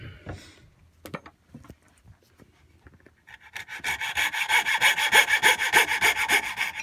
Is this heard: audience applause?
no